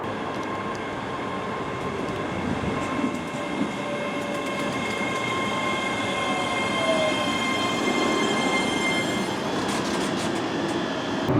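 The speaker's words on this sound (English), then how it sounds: "I shall be leaving Edinburgh Park on the 1345 ScotRail service to Linlithgow" A ScotRail train pulls out of Edinburgh Park on the Edinburgh–Glasgow line, giving a steady interior rumble with sustained tonal whine, wheel squeal and faint clickety-clack throughout, without talk.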